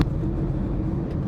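A car cruising at a steady 45 km/h on a road, its low engine and road rumble continuous and even from inside the vehicle, with no voices.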